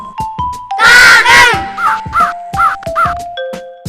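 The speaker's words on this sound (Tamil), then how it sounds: "காகம்," A crow caws several times in quick succession, loud harsh calls with a couple of strained, drawn-out cries at the start, alongside tonal musical notes in an educational bird-names setting.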